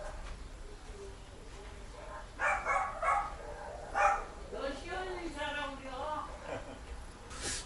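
A pet dog barks indoors at home while guests are present, with a few sharp yips and whimpering barks in a short cluster over a low background, and people talking nearby.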